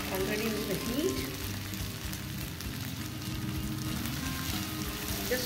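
Sabudana fries in a hot pan while it is stirred, giving a steady close sizzle with soft scraping movements throughout and no talking.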